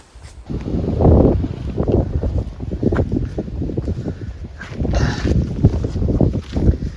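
Gusty wind on a hilltop buffets the microphone in a low, rumbling roar that swells and eases throughout.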